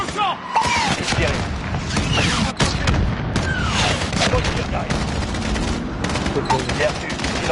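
Rapid bursts of gunfire fill a military video game battle, loud and continuous with dense overlapping shots and booms throughout.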